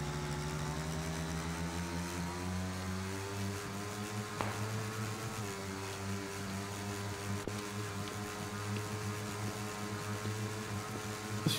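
A vehicle engine driving in a video game drones at a steady low pitch with a smooth, continuous hum and slight shifts in revs, heard close with no voices.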